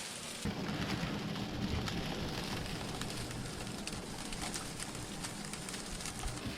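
Ice pellets fall steadily outside a wooden Tahiti gaff cutter during a winter storm, a dense even patter on the deck and hull with a low rumble underneath, continuous and fairly faint, no voices.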